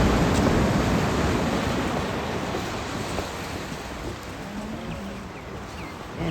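Ocean surf washing ashore at Boulders penguin beach near Cape Town, a continuous rushing roar of breaking waves with some wind buffeting, loudest at the start and easing slightly.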